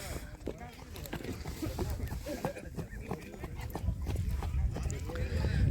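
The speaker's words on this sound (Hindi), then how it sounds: "कच्छ के घोड़े जो होते हैं 3 किलोमीटर ज़्यादातर दौड़ते और ऐसी फील्ड में दौड़ते।" Kutch horses galloping in a race across an open field, steady rapid hoofbeat clip-clop throughout, growing louder toward the end, with talk and crowd voices over it.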